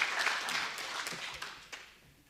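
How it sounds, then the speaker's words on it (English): Audience clapping in a ladies' training session room, a short burst of applause that tapers off, with a faint voice over it. "can everybody clap for me?"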